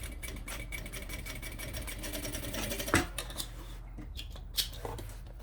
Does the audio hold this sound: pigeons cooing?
no